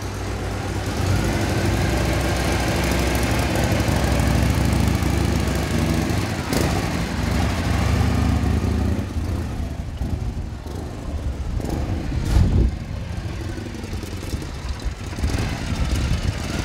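A 1977 Harley-Davidson FX motorcycle engine idling with a steady low rumble, close and loud, with a few sharp revs and clanks toward the end.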